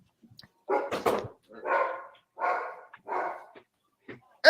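A dog barks and yips in four or five separate bursts at close range, excited and loud, with silence between each outburst.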